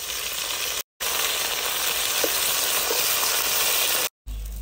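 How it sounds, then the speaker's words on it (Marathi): Mustard seeds, cumin and a wet onion, garlic and ginger paste sizzling in hot oil for methi masala, a loud dense steady hiss with two abrupt short dropouts, no voices. "तेल तापलंय, त्यात आपण आता मोहरी, जिरं, जे आपण ओलं वाटण वाटून घेतलंय, कांदा, लसूण, अद्रक, ते टाकून घेऊ"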